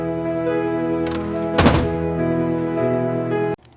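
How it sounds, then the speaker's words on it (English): A door being shut in a home kitchen, a single dull thunk near the middle over a steady humming background with harmonic tones, near and fairly loud, with no talking. "Close the door."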